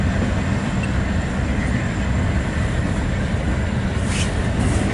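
A train rolls along a railroad, a loud continuous rumble with steady low mechanical roar and faint high squeals near the end, no voices over it.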